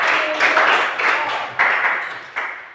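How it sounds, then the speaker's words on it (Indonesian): A classroom of students claps for a group, a dense, steady patter of many hands that swells and fades in several waves over a few seconds, with no talking on top. "Ya, kita berikan tepuk tangan juga."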